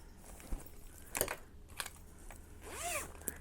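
A zipper pulled in a quick rasping sweep near the end, preceded by a few soft clicks and handling noises, close and fairly quiet.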